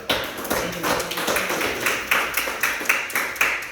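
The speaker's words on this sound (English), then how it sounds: "Clap it up" Scattered clapping at a board meeting, a small group's claps coming in a loose, fairly even rhythm at low-to-moderate volume, with no talking over them.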